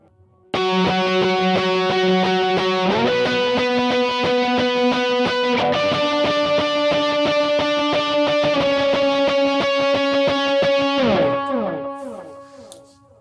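An overdriven electric guitar rings out sustained octave pairs, shifting pitch a few times before the notes fade out.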